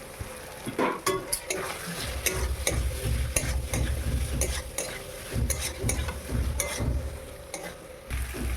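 Raw jackfruit and potato pieces fry in a hot pan with oil, a steady close sizzle broken by irregular scraping and stirring clatter of a spoon against the metal, with no voices.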